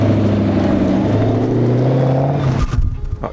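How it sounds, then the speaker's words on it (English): Toyota Soarer (SARD) car engine running near the microphone, a loud steady rumble with shifting low engine tones that break up into rougher bursts near the end, no voices. "We'll just give her a couple of minutes on idle and see if them fans kick in."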